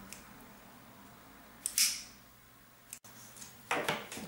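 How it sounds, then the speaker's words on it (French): Scissors cut archery cord close by, giving a couple of sharp snips with a small metallic click between them against a quiet background. "Ensuite il suffit de couper de chaque côté et puis de brûler pour terminer le nœud."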